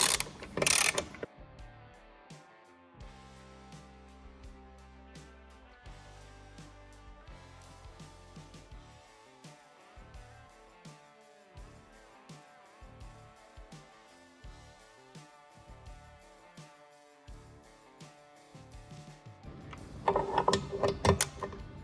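Mechanical ratcheting and clicking from tightening the fasteners on a TricLED Canyon motorcycle floorboard, a run of close, irregular taps and ratchet clicks with louder clatter at the start and end.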